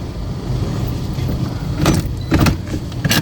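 A car is manoeuvred into a parking spot, giving a steady low engine rumble with a few soft knocks and clicks near the end, and no talking.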